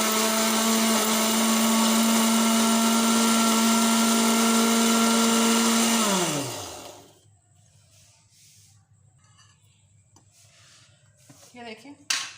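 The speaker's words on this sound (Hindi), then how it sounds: "अब इसको मैंने चॉपर में डाल दिया है, तो अब इसको ब्रीक सा पीस लेते हैं हम" An electric kitchen chopper grinds bread into crumbs with a loud, steady whir for about six seconds, then winds down and stops, leaving quiet room sound with a few small clicks.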